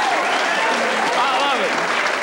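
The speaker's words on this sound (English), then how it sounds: "You're applauding it." Applause from a comedy club audience at a 1987 stand-up show, a dense steady wash of clapping that fills the whole moment, with faint voices mixed into the crowd noise.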